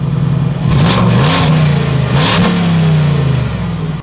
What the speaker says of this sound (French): un bon V8 Atmo à l'ancienne.